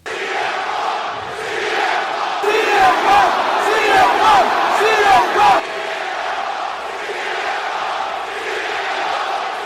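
A packed wrestling arena crowd chants CM Punk's name in loud rhythmic unison for a few seconds, then drops back to a steady roar of crowd noise.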